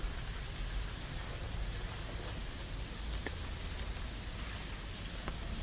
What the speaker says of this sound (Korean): 비가 너무 많이 온다